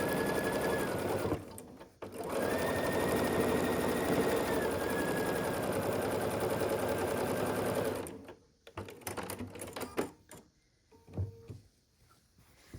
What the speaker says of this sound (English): I'm just going to sew across the top here. Do a 1/4 inch seam allowance straight across the top.